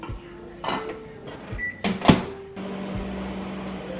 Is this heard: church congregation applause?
no